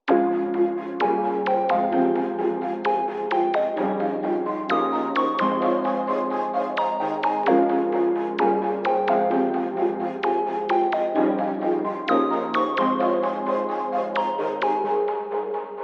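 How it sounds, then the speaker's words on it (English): Several synthesizer layers play together in a steady, looping electronic trap beat, with bright plucked notes over sustained chords and continuous, even loudness throughout. "So now all the synths together sound like this."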